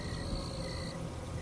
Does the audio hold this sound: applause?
no